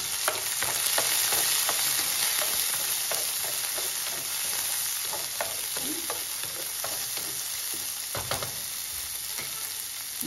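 Chopped garlic with mustard and cumin seeds frying in hot oil, giving a steady broadband sizzle with scattered small pops and occasional stirring clatter throughout, fairly close, with no talking.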